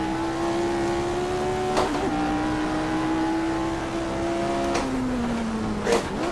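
A Formula 1 car engine lapping Goodwood gives a loud, steady high-pitched scream as the throttle is feathered, with slight pitch dips and a few sharp blips along the way.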